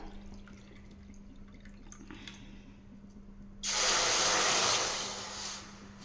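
Water poured into a pan for rava kesari: after a few quiet seconds, a sudden, fairly close gush of pouring water runs steadily for about two seconds, then tapers off.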